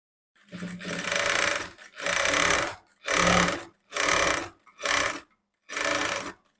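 A sewing machine stitches a blouse seam in six separate bursts of steady motor whirring, each one or two seconds long, with short silent pauses between them, heard close and alone.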